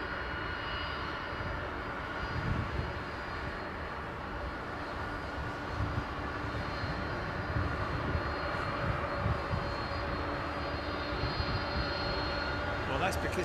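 A jet aircraft engine at London Heathrow Airport, heard as a steady, broad, droning roar that holds at an even loudness for the whole stretch.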